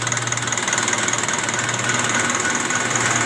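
An Isuzu 4JA1 diesel engine runs steadily during injection pump calibration, a close, loud, even idle with a rhythmic diesel knock and mechanical hum, no voices.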